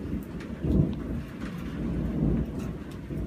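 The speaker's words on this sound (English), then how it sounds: "good and a bad side to this storm." A thunderstorm outside a workshop: low thunder rumbles swell twice over a steady hiss of rain, moderately loud and unbroken, with no voices.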